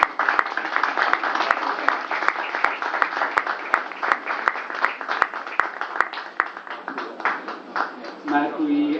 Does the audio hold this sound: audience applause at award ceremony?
yes